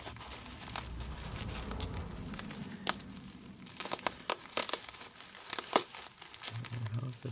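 Adhesive tape peels and crinkles inside an HP Spectre x360 15 laptop during disassembly, a close run of irregular crackling, tearing and snapping noises over a low background hum.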